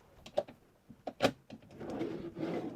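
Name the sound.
drawer under a motorhome bed being opened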